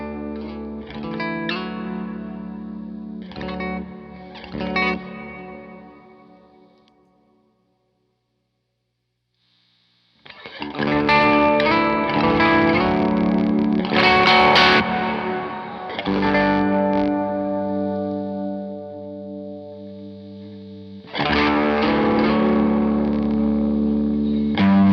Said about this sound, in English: I'm running a Jazzmaster through the Pro Reverb.